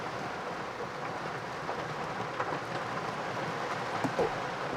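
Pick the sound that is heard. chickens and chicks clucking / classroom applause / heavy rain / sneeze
heavy rain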